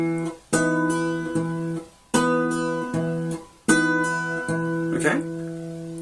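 Guitar strumming a song's chord pattern, with second-finger hammer-ons between bass notes, three ringing phrases each with quick hammered notes, close and clear, with a brief voice sound near the end.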